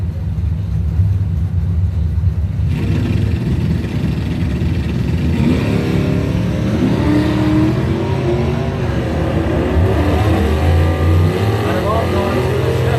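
At a drag strip, a Monte Carlo and an 84 Mustang race car build from a loud steady rumble into a hard launch and rising roar, close and continuous, with an announcer talking over the engines.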